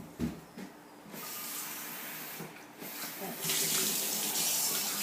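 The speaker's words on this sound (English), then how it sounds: "rinse it with cold water and fill it with cold water" Tap water runs into a cup as it is rinsed and filled with cold water, with splashing bursts early on and then a steady louder gushing stream, close by.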